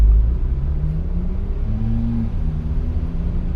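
A BMW M4 CS engine pulls under acceleration as a steady, loud low drone with slowly rising tones, heard from inside the car with no talking.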